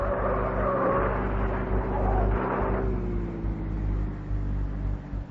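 Police car engine roaring in pursuit on wet, slippery roads as a radio drama effect, a loud continuous motor that surges early then settles into a steady drone before easing off.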